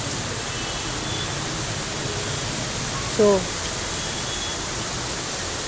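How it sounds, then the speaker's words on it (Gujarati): Torrential night rain pours down over Junagadh during a flood, a steady, even roar of falling water filling the whole clip, with one brief spoken word near the middle. "કેવો વરસાદ ધોધમાર વરસાદ આવી રહ્યો છે"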